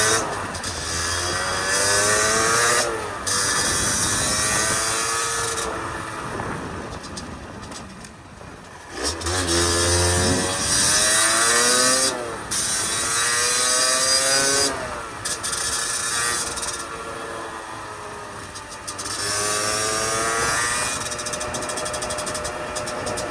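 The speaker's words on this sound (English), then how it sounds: "Pretty fast little bike, only 50cc." A Beta RR50 50cc enduro motorcycle is ridden on a road, its small engine buzzing loudly and rising through repeated gear changes with brief dips between shifts, continuous and close.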